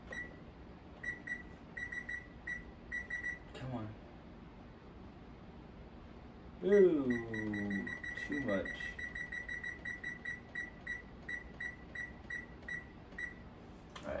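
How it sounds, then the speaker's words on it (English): A kitchen timer being set while cooking smothered pork chops, giving short high electronic beeps, first in scattered presses, then a rapid repeating run, with a person speaking briefly in the middle. "Set my timer for 30 minutes."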